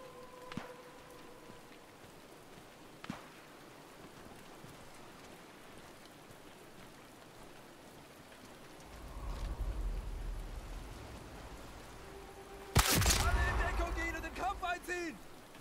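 Rain hisses steadily in Sniper Elite 5 on Guernsey, with a few sharp cracks and a louder rumbling burst near the end, under faint talk.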